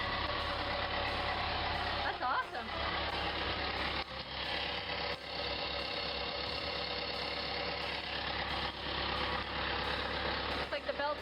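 A boat engine runs steadily as the boat leaves the dock, a low continuous droning rumble with brief dips, heard close while a person speaks briefly over it.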